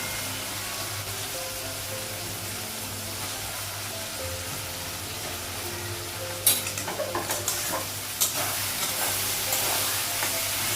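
Potatoes and spices fry in a hot pan with a steady, even sizzle over a low gas-burner hum. Midway a burst of sharp spatters and scraping stirs cuts in, then the sizzle settles again, with no voices.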